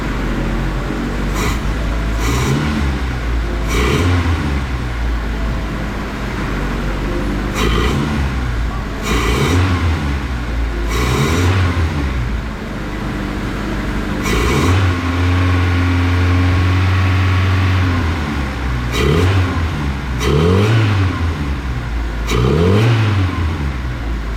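An engine runs slightly high at idle and is revved repeatedly, producing a string of loud, close rising-and-falling vroom bursts over a continuous rumble, with a longer sustained rev near the middle.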